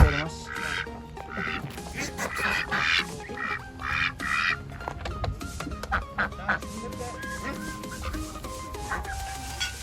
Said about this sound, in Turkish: Sürüler halinde ördekler yine burada dolaşıyorlar yine burada.